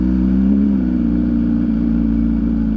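MV Agusta Super Veloce 1000 Oro motorcycle engine running steadily on a ride, a loud, even low drone with a faint clatter and no talk.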